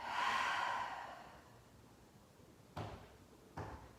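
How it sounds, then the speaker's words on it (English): Slow, long exhale during a yoga breathing exercise, a soft airy breath that fades out gradually, followed by two faint knocks, quiet and close with no talk. "Take a deep breath in,"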